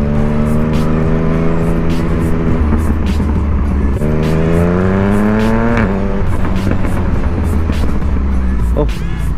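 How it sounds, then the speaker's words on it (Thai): A Yamaha MT-09 motorcycle's exhaust roars while riding hard through the gears in A mode, with loud rising revs, brief shift dips and repeated pulls, captured close with the rider talking over it. "เสียงท่อนี่แบบ สุดยอดจริง"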